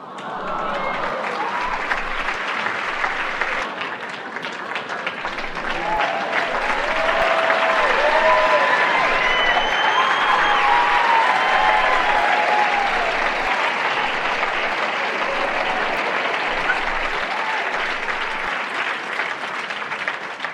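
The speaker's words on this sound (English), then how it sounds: "You like that manifested applause?" A large audience claps in a sustained, even wash of applause that holds steady at full strength for about twenty seconds, alone with no talk.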